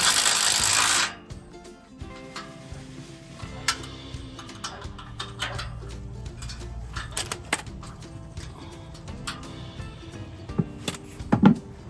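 A 1/4-inch wrench tightens a bolt on a front bumper being installed on a Lexus GX470, a soft loud burst at the start followed by faint, scattered ratcheting clicks and small metallic ticks at close range.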